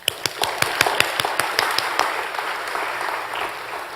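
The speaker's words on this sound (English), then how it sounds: "So for that, I just want to give you a quick applaud." Audience applause at a GROW 2018 business event, opening with a few sharp, distinct claps that quickly swell into a steady wash of clapping from the crowd.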